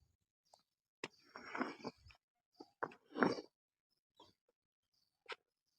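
A dog makes short snuffling, whimpering noises and brief barks in a few bursts, close by with quiet gaps between.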